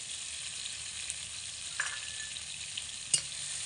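Spices, turmeric, salt and ginger paste sauté quietly on a low flame, an even soft sizzle with a couple of faint utensil clicks near the end, no one talking.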